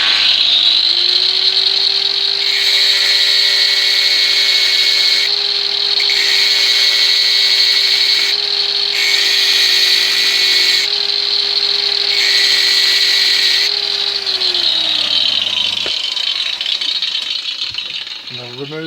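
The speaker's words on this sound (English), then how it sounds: "and turn on the lathe" A metal lathe hums steadily and loudly for about fifteen seconds with a constant whining tone, then spins down and stops, leaving a quiet room near the end.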